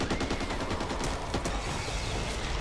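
Rapid automatic gunfire in the video game Back 4 Blood, a dense steady stream of shots from a character firing into the air, loud and continuous with no talking.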